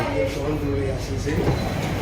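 A train arriving at Dadar station rumbles and rattles close by, a continuous heavy rolling noise with faint clacking.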